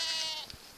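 Unshorn ewes at a livestock sale give one short, close, wavering bleat that tapers off quickly, with no talk over it.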